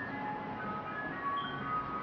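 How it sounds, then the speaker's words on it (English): Ice cream truck jingle playing faintly in the distance, a thin steady melody of high tones drifting over a low outdoor background hum. "an ice cream truck."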